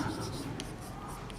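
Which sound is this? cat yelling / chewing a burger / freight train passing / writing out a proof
writing out a proof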